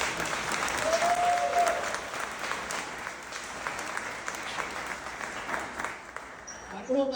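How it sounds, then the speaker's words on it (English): Audience at the LBX 2025 LightBurn laser software conference applauding, a steady round of many hands lasting several seconds, with a voice briefly heard over it near the end. "Round of applause for Jason and the LightBurn staff for a great assist."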